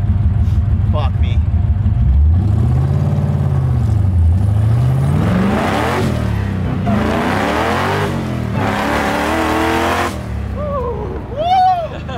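Mazda Miata fitted with a Hellcat engine accelerating hard, a loud close engine roar rising and falling in pitch through gear changes with wind and tyre noise, voices talking and shouting around it.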